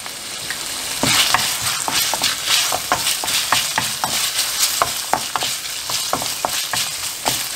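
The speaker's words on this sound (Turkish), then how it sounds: "isterseniz biraz daha böyle yağ atıp ekmeği iyice yağlayabilirsiniz" Bread soaking up oil on a hot griddle for beef tantuni, a close, lively sizzle punctuated by a quick series of sharp spatula taps and scrapes against the metal, with no voices.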